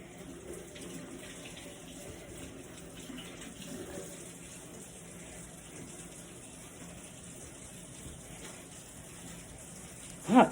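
A tap runs steadily as hands are washed under it at a sink, a constant low gush of water that fills the clip, ending in a brief louder knock.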